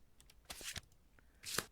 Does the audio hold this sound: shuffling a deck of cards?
yes